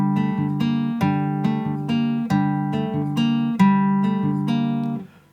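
Guitar in standard tuning plays the intro of a song from Arcane Season 2: ringing picked notes and dyads struck in a steady rhythm, loud and close, with no voice, letting the last notes fade out.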